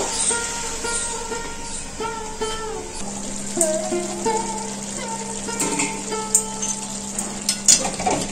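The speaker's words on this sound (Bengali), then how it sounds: "এরপর মাটনটা আমি চাপা দিয়ে দিয়ে কষাবো।" Mutton pieces being fried and pressed down in a pan with tomato over lowered heat, a steady moderate sizzle and hiss with scattered scraping clinks of a spatula against the pan.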